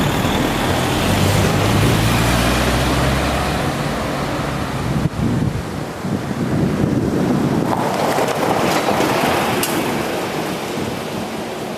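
A strong Caribbean breeze rushes over a boat, a steady loud roar of wind buffeting the microphone with faint water sounds beneath, continuous throughout.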